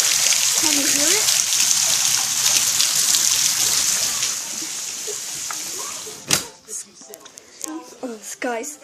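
Very hard rain pours outside a window as a dense, steady hiss for about six seconds, then fades as a person starts talking over a fainter wash of rain.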